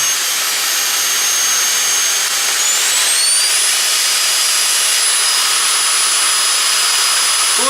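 A repaired Bosch handheld vacuum cleaner runs steadily and loudly throughout with a high-pitched motor whine that climbs partway through as it shifts speed, with no talking.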